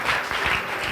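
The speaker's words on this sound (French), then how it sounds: "Est-ce qu'on peut applaudir pour l'encourager?" Schoolchildren and audience at a malaria quiz event applaud together in a dense, loud burst of clapping that holds steady throughout.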